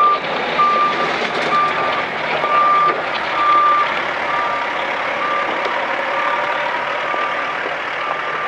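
A truck idles loudly nearby beside a railway line, its reversing alarm repeating in a regular beeping rhythm over a steady engine rumble for the whole stretch.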